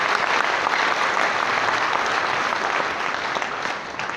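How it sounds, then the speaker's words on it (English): Graduation audience at the Palais des congrès applauds the doctor, a dense, steady clapping that fills the hall for about four seconds and eases slightly at the end. "Can we put a hand of applause again for the doctor?"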